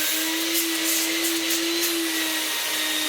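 A restored 1990 Vax 121 3-in-1 wet and dry vacuum cleaner runs loud and steady nearby, with a constant motor whine and a rushing airflow roar, no talking.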